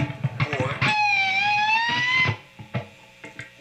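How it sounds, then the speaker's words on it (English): Electric guitar picked note bent downward with the whammy bar into a divebomb, a sustained wavering tone that sags in pitch over about a second and a half, loud and up close after a few short plucks. "you want to push the whammy bar down, or you can pull it up. And it should sound like this."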